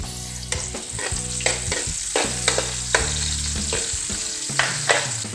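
Onions sizzle loudly in a hot pan while cooking kinunot stingray with coconut milk, a dense, continuous frying crackle broken by repeated scrapes and clinks of stirring, with no voices.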